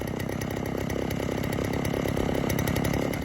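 Vintage Stihl 08S chainsaw idling and running at a steady rev, a continuous buzzing two-stroke drone with rapid pulsing, close and loud, no voices.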